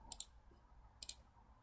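A computer mouse clicks while software is being operated, two quick double clicks about a second apart, close and crisp over a quiet room hum.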